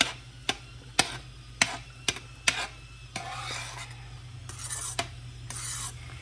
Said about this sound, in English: Just keep stirring it in there.